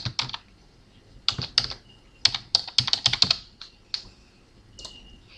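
Someone types a short word on a computer keyboard, a close run of quick, crisp key clicks in two or three bursts with brief pauses between them.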